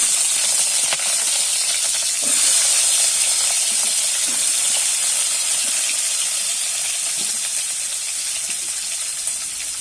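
Washed, chopped bottle gourd hits a hot pan of lightly fried ingredients for a summer dal shukto, releasing a loud, continuous hiss of steam and sizzle that softens only slightly over about ten seconds.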